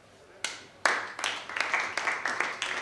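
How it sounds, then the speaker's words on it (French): A small group starts clapping, first a few single claps, then a brief, thin round of applause with uneven rhythm. "On applaudit."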